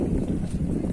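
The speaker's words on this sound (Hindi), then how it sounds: "अब ठंडी हवा चलने लग गई है" Cold wind gusts across a mountain trail on the walk to Kedarnath, a steady, close rumble of wind buffeting the microphone.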